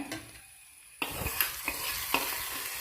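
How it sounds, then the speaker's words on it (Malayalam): Onion and mustard seeds sautéing in ghee for mutton curry, a quiet hiss that bursts into a louder sizzle, then several crisp spatula clicks and scrapes against the pan, nearby with no voices. "നെയ്ക്കകത്ത് ഉള്ളിയും കടുകും കൂടെ മൂപ്പിച്ചെടുത്ത്"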